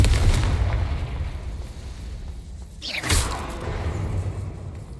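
Confringo explosive spell blast in a video game: a sharp burst near the three-second mark cuts through a rumbling low backdrop, followed by a lingering rumble.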